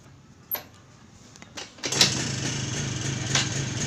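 A TVS XL Super moped with a misfire and weak pickup is kicked and cranked in a few clunks, then catches and runs with a steady buzzing high-pitched engine drone nearby, with no talk over it.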